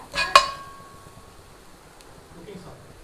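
Minced garlic stirred in a pan while preparing Korean fried prawns: a sharp metallic clink of the spoon against the pan near the start, then a faint, steady frying hiss.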